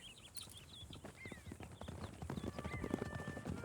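Horse hooves clip-clop steadily in Red Dead Redemption 2, several horses walking at a relaxed rhythm, with birdsong and faint ambient sounds around them.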